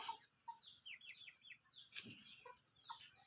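Backyard chickens, including Thai gamecocks and village hens, cluck and chirp softly as they eat before going up to roost, a scatter of close, quiet calls and peeps over a faint low hum.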